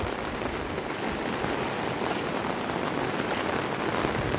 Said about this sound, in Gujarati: અવિરત વરસાદ ત્રીજો દિવસ.